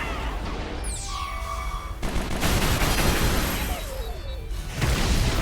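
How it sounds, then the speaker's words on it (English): Airstrike explosions and gunfire in the video game Fuga 2: dense, continuous rattling blasts and booms with whooshing sweeps, loud and sustained throughout without letup. "We'll start the airstrike."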